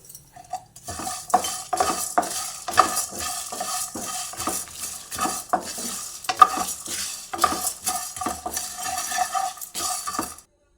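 Fenugreek seeds sizzle in hot oil while a bitter gourd curry is being cooked, with steady frying hiss and repeated close metallic clinks of a spoon stirring against the pan.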